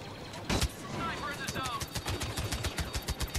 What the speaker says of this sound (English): Infantry turret. This'll help.